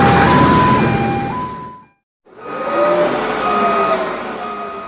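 Reversing beeps from a garbage truck sound loudly alongside a tonal mechanical hum, broken by a short silent gap before resuming.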